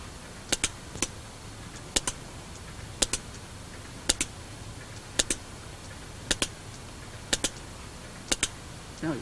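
Recorded sperm whale clicks from Southeast Alaska, sharp isolated broadband clicks arriving in loose pairs and triplets every second or so over a steady low hiss of underwater noise.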